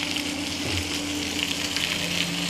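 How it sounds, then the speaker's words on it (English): Food frying in a pan on a camp stove, a loud, close, continuous sizzle with bubbling crackle that holds steady for a couple of seconds, with no talk over it. "Oh, that's sizzling loud."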